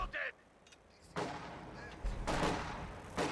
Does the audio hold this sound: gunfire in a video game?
yes